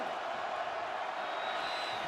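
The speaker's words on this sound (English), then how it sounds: "Crowd again getting loud for Seattle, trying to help this defense out." A stadium crowd at a Seattle Dragons XFL football game roars steadily as the home defense takes the field, a broad, sustained wall of cheering and noise heard from afar.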